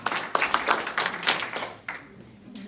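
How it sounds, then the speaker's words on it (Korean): A group of young church students claps on command at a count of seven, a quick run of loose, unsynchronized claps that thins out and trails off into scattered taps. "박수 7번 시작"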